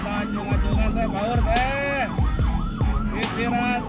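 An ambulance siren wails in repeated rising and falling sweeps, loud and close, as the ambulance is escorted across a bridge on a main road in Sukabumi, West Java, with traffic rumble underneath.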